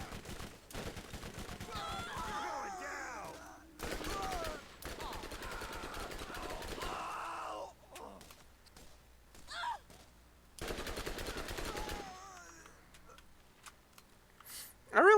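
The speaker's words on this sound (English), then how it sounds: "I really do like SMGs." Submachine gun fire in Borderlands comes in several rapid bursts of rattling shots, loud and close, separated by short quiet gaps, with other game effects between.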